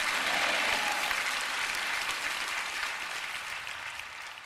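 Church congregation breaking into applause after a sermon, a dense wash of clapping that slowly fades over several seconds.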